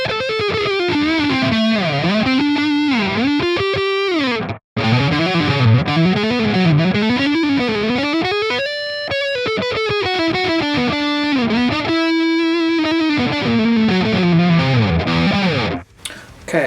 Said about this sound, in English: And finally, let's do neck pickup again, but with distortion.